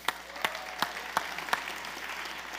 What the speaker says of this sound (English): So let's clap it up for Michael McCormick.